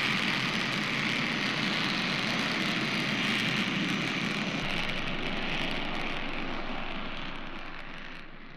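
Jet engine roaring steadily at takeoff in Ace Combat 7 VR, a loud broadband rumble and hiss that holds constant throughout, then fades slightly at the end.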